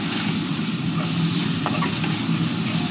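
Ginger, garlic and spices frying in a pan for a mutton curry, giving a loud, close, continuous sizzle with a low rumbling undertone and a few faint stirring scrapes.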